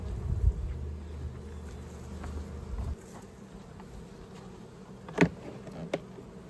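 Honeybees buzz around frames from a horizontal hive being split, a low steady hum that fades partway through, with a few sharp knocks and handling noises afterward.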